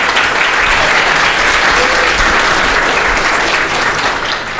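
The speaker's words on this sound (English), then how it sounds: "we should give all of the panelists a big round of applause" Sustained, dense applause from a conference audience honoring a panel of women in gaming, loud and steady throughout, easing slightly near the end.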